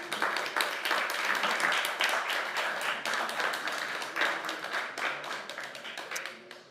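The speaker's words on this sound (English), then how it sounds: "Please applaud." Audience at a COP28 Nordic Pavilion panel session applauding, sustained crowd clapping at moderate distance that tapers off near the end.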